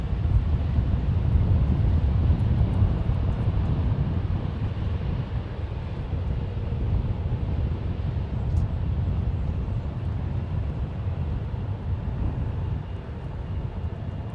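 Steady low rumble of a jet airliner at San Francisco International Airport, a broad, continuous roar that stays fairly even and slowly fades slightly over the span, with no talk.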